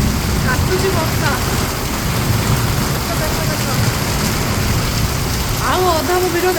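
Heavy rain pours steadily in Bhubaneswar, a dense continuous roar, with a voice talking over the downpour and faint sounds of passing traffic.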